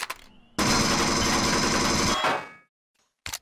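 Sustained automatic gunfire in Empyrion Galactic Survival, a dense rapid burst of shots lasting about a second and a half aimed at steel blocks of a crashed ship, loud and close, tapering off before a couple of short bursts.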